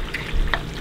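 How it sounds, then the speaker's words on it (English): A wooden spoon stirs bear fat rendering in a pot with meat bits, giving a soft, close sizzle and bubbling with a brief scraping stir in the middle, no talk. "Give it a little stir."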